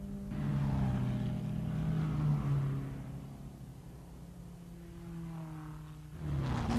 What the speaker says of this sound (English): The Lancia Ferraris round the carousel.